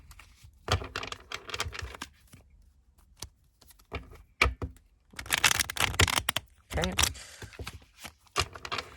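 Tarot card deck being shuffled by hand, with bursts of riffling and sharp card flicks and slaps in uneven clusters separated by pauses, close up, with a brief spoken word.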